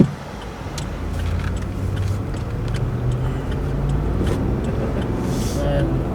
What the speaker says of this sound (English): heavy traffic here.